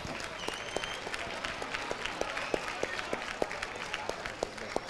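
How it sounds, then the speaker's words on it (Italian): An audience applauds for the mayor at an outdoor public event, a steady wash of many hands clapping with sharper individual claps standing out, crowd murmur underneath. "Chiedo anche un applauso al vostro sindaco."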